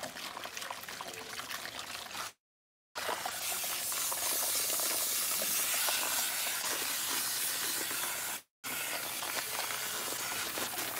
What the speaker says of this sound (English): I'm going to rinse the back first because that is where I was first